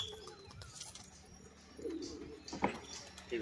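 Pigeons give soft, low coos at close range, a few short calls scattered over faint background noise.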